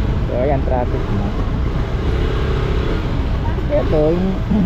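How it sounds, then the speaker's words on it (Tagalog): Road traffic on a busy street in Angeles City, heard from a moving motorcycle: a steady broadband rumble of engines and road noise runs throughout, with some voices or horn-like tones mixed in. "Traffic na."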